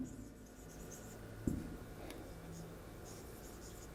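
Example words being written out by hand, soft scratchy strokes close by with a couple of light taps over a quiet background.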